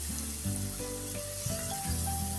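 Ginger and garlic frying lightly in a pan, a soft steady sizzle with faint clinks and stirring noises over it, close and low in level.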